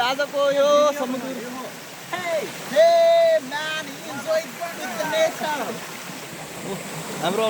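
A mountain stream rushes through a hidden valley near Gwangdeoksan village in Korea on a summer day. Its steady broadband wash runs continuously beneath several people chatting and calling out throughout.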